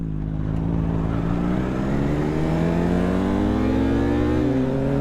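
A 2025 Yamaha R3 motorcycle revs steadily while riding, its engine note rising smoothly and loud up close under rushing wind, with no voices over it.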